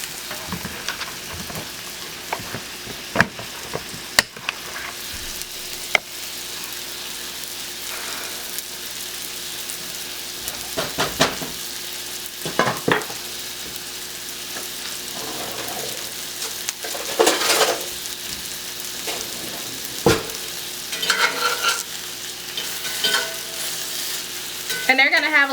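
Meatballs fry in a pan with a steady, close sizzle. Scattered pops and stirring scrapes run through it for the whole stretch, and no voice is heard.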